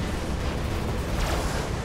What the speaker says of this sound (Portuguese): já é o segundo que eu tô tomando aqui, tiro paralisante.